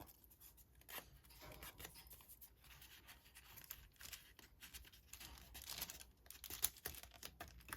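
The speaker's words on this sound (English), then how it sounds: "I think I might cut off that bottom because I want it to fit." Scissors snip through paper that has been folded in half, trimming off the bottom edge, in a quiet indoor craft setting; several soft, close crisp cuts and rustles with no talking.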